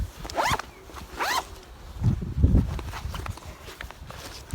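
Zipper pulled open on a pocket of a 5.11 Rush 24 tactical backpack, two quick rising zip strokes up close, followed by softer handling rustle and thumps.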